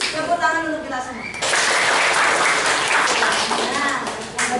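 Classroom applause bursts in after a few spoken words, dense clapping from a group of students and a teacher that keeps going to the end, with faint voices mixed in.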